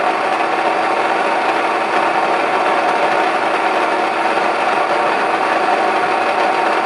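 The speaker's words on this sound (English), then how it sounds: "These are some rye berries, which I will be milling into rye flour." A grain mill grinding rye berries into rye flour, a loud, steady motorized whir with a gritty grinding texture throughout and no voices.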